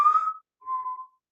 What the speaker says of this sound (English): Out in the distance, whistling